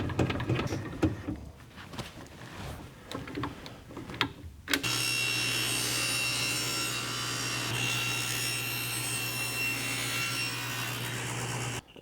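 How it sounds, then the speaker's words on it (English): A table saw bevels wood fence pickets at 45 degrees: scraping, rubbing handling of wood, then the blade whines steadily and loudly through the cut for several seconds, close up and alone. "I'm going to take it back to the table saw, angle my blade 45 degrees, and bevel all these angles"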